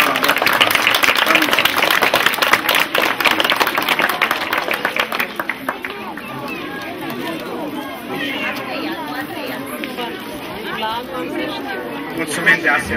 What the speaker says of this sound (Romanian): Să-i aplaudăm pe cei mici și ei să se îndrepte spre sala de clasă.